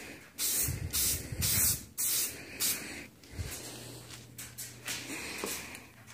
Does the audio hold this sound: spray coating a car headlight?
yes